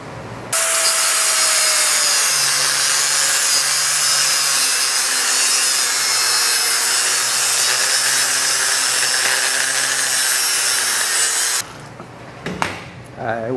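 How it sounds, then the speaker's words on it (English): A grinder with a small cutoff wheel cuts through a hefty bronze casting, a loud continuous high whine and grinding for about eleven seconds, then it stops and brief clattering and handling noises follow, close up. "I'm going to try it with the little cutoff wheel on the grinder"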